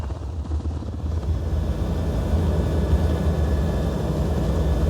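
Helicopter in flight, heard from inside a noisy cabin: a loud, steady low rotor and engine drone that builds slightly in the first second and then holds constant, with no voices.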